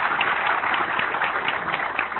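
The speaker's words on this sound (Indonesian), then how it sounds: "Tepuk tangan untuk Pak Louis." Applause from an audience at a motivational leadership talk runs steady and dense for the whole short stretch, moderately loud with no pauses.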